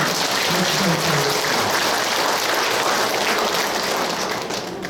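Dense, continuous applause from an audience at a local community gathering fills the whole stretch, loud and steady, with faint voices mixed in.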